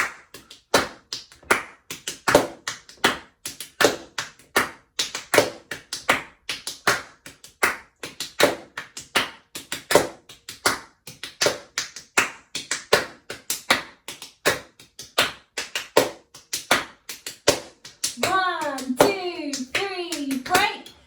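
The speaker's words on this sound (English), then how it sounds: "we're also going to be clapping in a circle to that beat" Hands clap a steady reggae beat in a circle, with crisp, evenly spaced claps close by throughout. A brief sliding, whistle-like vocal sound rises over the claps near the end.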